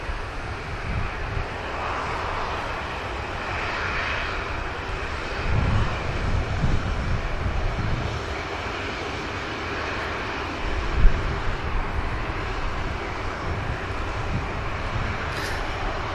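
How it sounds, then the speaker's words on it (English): Jet airliner on flight LS 930 arriving at Manchester Airport, a steady distant engine roar that swells and fades across the approach, with wind rumble and no speech. "You're going on the 19th of August, LS 930 on the flight that's just coming in"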